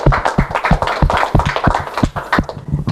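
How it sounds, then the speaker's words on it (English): A workshop audience bursts into steady, close clapping that runs the full length, dense and bright with individual claps blurring into continuous applause. "Let's give these guys a round of applause."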